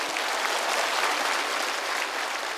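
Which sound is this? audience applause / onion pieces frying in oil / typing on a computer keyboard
audience applause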